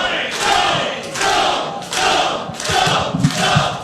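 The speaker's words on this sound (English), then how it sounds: "The spontaneous skull chant breaks out." A sports bar crowd chants in rhythmic unison, about five loud booming shouts spaced evenly, each followed by a thud.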